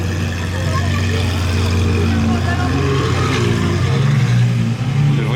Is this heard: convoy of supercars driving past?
yes